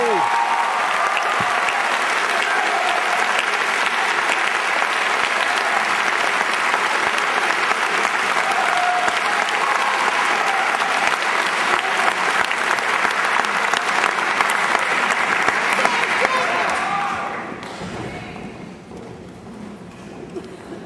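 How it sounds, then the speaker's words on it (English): Warm, sustained applause from a graduation ceremony audience for the graduating students, dense and steady for about seventeen seconds before fading to quieter room noise. "let's have a nice warm round of applause for all the students."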